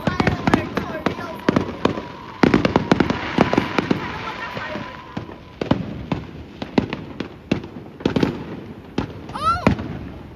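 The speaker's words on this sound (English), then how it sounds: "The fireworks are so beautiful!" Fireworks bursting in a dense, uneven volley of loud booms, pops and crackles, with a whistling rise near the end; excited voices exclaim over the blasts.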